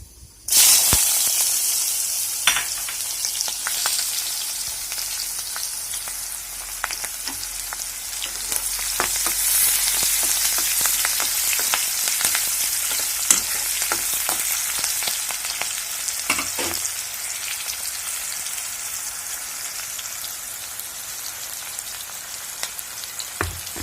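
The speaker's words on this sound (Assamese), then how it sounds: "তাতে মই এইবাৰ পিয়াজখিনি ভাজি লম।" Onions frying in oil left over from frying fish, a loud steady hiss that starts abruptly and holds throughout, with occasional crackles and stirring clicks, close up and without talk.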